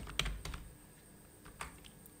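Quiet keystrokes on a computer keyboard, a few scattered clicks and taps at an uneven pace, close and faint, with no talking.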